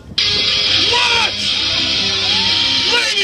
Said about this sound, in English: On three, I want everyone to scream, Hulk!